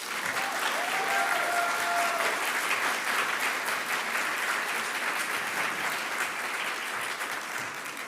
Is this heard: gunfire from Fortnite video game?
no